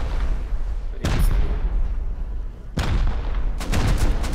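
Rocket launcher explosions boom during a raid in the Rust video game, three heavy blasts spaced a second or two apart over a constant rumbling background.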